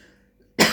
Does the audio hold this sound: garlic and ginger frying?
no